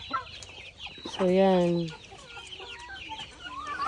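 A chicken gives a loud, drawn-out squawking cluck near the middle, with quieter background clucks from chickens and ducks on a mountain farm and brief talk around it.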